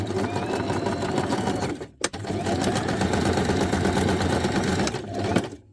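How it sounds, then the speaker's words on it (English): Sewing machine stitching small paper scrap embellishments one after another in a continuous chain without cutting the thread, a steady loud mechanical whir running almost throughout, broken by a brief pause near the middle. "Now when I sew these, I don't cut my thread between little embellishments. I just sew them on one big long chain."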